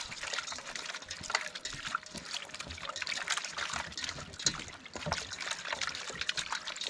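Water trickling and splashing steadily while meat is washed with lime, a soft and continuous dribbling with small irregular splashes, faint and close.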